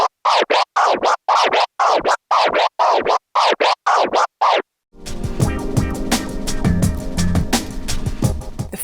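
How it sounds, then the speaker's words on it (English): A DJ performs a flare scratch on a turntable: a rapid series of short, rhythmic scratch bursts chopped by the crossfader, followed by a dense, continuous burst of music. "in this video I'll teach you how to do the flare scratch, which sounds like this."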